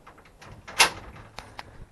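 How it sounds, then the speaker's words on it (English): A single sharp latch click as an RV door is unlocked and opened, followed by a couple of softer knocks, close by in a quiet space. "unlock the doors"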